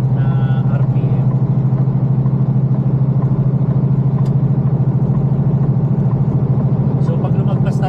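Truck engine pulling in fourth gear past 1500 RPM, a steady loud low drone with a continuous rhythmic throb throughout, close and unbroken.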